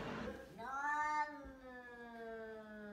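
A cat lets out a long, drawn-out yowling meow that rises and then slowly trails off, heard close and fairly loud against a quiet room.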